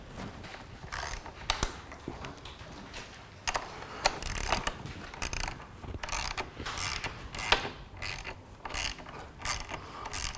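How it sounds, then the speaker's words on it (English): A 10 mm ratchet clicks away at a bolt on a BMW S1000RR front fairing, with quiet bursts of rapid, close, metallic ratcheting separated by short pauses and handling noises. "we'll take our 10 millimeter and take that off as well on that side"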